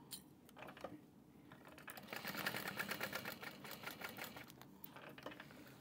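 Sewing machine basting fabric for a train case, a faint rapid mechanical chatter that speeds up in the middle and then slows, heard alone at low volume.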